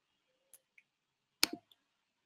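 A few isolated clicks in an otherwise quiet room, scattered keystrokes on a QWERTY keyboard, with one louder clack near the middle.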